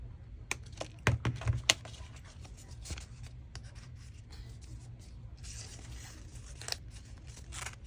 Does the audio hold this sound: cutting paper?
yes